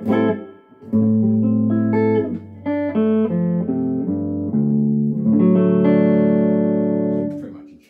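A Harley Benton electric guitar with flatwound strings and reverb plays a short phrase of sustained chords and single notes, close and clean with a reverberant tail, alone without talk.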